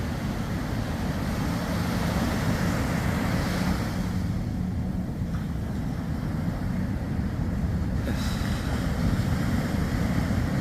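A deep-V boat with a big wheelhouse, named Against All Odds, pushes through rough waves with a steady, loud rush of water and wind roar, close and constant, without talk.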